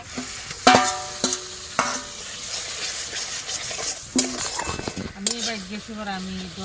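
Spinach paste with turmeric, chili powder and salt frying in a pan, a busy sizzle broken by sharp utensil scrapes and clinks against the pan, with occasional brief voice-like tones near the end.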